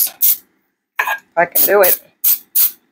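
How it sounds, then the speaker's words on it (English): Cooking spray hissing onto cupcake tins in a home kitchen, several short, sharp spritzes with gaps between them, close by, alongside a person speaking briefly. "I'm going to go ahead and spray the pans"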